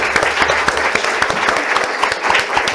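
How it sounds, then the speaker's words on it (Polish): Audience applause for translator Karolina Golimowska at a Polish-German literary reading, a steady dense clapping from a full room that fills the whole stretch without pause. "Und bitte einen großen Applaus für Karolina Golimowska."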